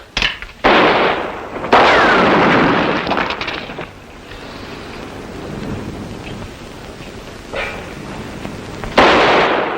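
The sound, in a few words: gunshots in a western TV show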